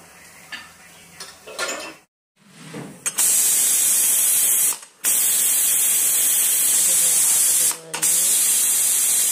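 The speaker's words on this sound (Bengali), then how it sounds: "আমার প্রেশারে সিটি দিয়ে দিয়েছে দুটো, আর একটা হবে।" A pressure cooker cooking mutton lets out a loud, piercing steam whistle in long sustained blasts with brief breaks, after some clattering of pots near the start.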